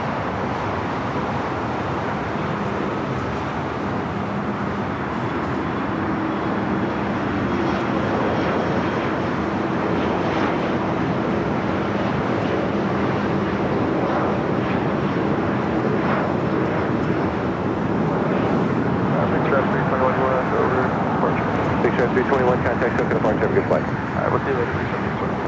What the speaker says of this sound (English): ITA 350 now landing